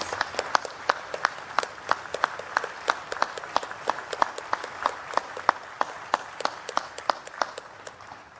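An audience at a National Veterans Day Observance applauds veterans' national leadership, with crisp, evenly spaced claps that ring out at a moderate level and hold a steady rhythm.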